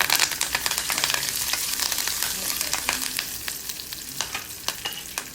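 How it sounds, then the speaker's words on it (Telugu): Curry leaves hit hot tempering oil in a pan, crackling and spitting loudly up close with sharp repeated pops over a steady sizzle, and a few stirring scrapes mixed in. "కరివేపాకు వేసుకుని వేయించుకుని"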